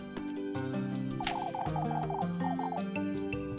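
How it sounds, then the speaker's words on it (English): Hens cluck in a farm video game, short bubbly clucks over a steady bed of upbeat game music, fairly loud and continuous, with no talk. "Careful with the hens, you hear?"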